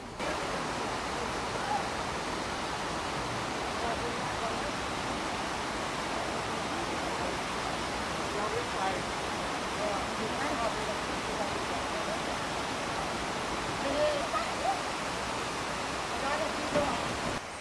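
A section of the Tietê river near its source rushes in a constant, broadband wash of flowing water, steady and unbroken throughout, with no voices.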